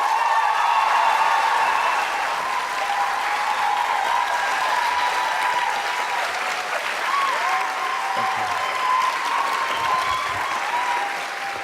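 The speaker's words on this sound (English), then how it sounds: "please welcome with a big round of applause" A large studio audience claps and cheers steadily to welcome Jenna Coleman and Peter Capaldi, a dense, sustained wash of applause that holds at a loud, even level throughout.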